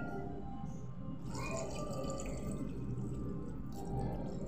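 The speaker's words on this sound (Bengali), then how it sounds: "এর মধ্যে দিয়ে দেব পানি" Water pours from a vessel into a pressure cooker holding pieces of mutton, a steady close splashing and gurgling flow that swells and settles over several seconds.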